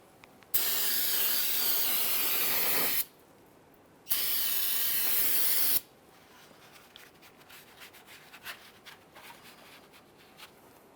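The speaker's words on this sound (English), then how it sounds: "I'm going to use some parts cleaner for this." Parts cleaner sprayed onto an oil mess on a 1999-2006 Chevrolet Silverado 1500 in two long, loud, steady hissing bursts, followed by quieter scattered rubbing and handling sounds.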